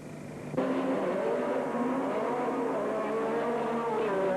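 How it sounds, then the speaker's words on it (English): Autocross race cars at a 1989 race in Malta launch off the start together, a sudden loud surge of several revving engines that holds on as a sustained roar of accelerating cars. "John Welsh once again makes the best start, and Palmer is squeezed out as Shields moves"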